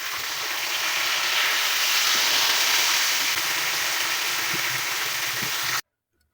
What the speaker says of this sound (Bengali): মাছগুলো মিডিয়াম টু লো হিটে উল্টে পাল্টে আমি ভেজে নিচ্ছি।